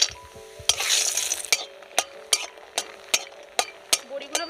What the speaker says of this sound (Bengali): বড়িগুলো আগে একটু ভেজে নেব